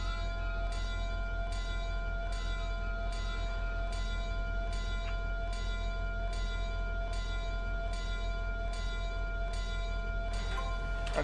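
A locomotive bell in the train simulator Trainz 22 rings steadily, one clang about every 0.8 seconds over a constant low engine drone, continuing throughout with no talking.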